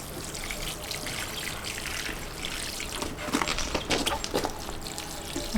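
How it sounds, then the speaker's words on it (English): Water trickles steadily into freshly planted potted plants in compost, a faint, continuous dribble that turns into a few louder splashy bursts near the end. "I'm just going to water these and then we'll put them in place where they're going."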